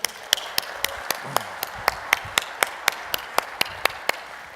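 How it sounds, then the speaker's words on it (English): An audience at a Las Vegas speaking event claps for a speaker in a steady, even rhythm, about three to four sharp claps per second in unison, each distinct and fairly close. "And you all start clapping."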